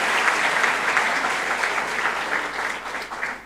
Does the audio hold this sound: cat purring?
no